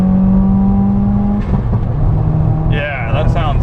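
A Stage 2 2015 Subaru WRX with unequal-length headers revs, a close, loud engine note that holds steady, dips, then climbs again, with a voice talking over part of it.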